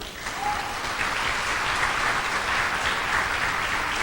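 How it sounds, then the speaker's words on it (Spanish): A church congregation breaks into applause during a Spanish-language sermon, a thick, even roar of clapping that builds quickly and holds steady, loud and full, with no voices on top. "¿Le da un aplauso al Señor?"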